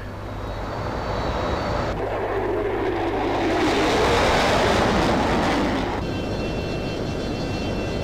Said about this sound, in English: And here's the refueling plane.